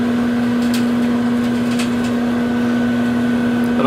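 A microwave oven heating pizza fries hums steadily with a strong constant drone, close and loud, with faint crackling sizzle over the four seconds and a click near the end; no one talks.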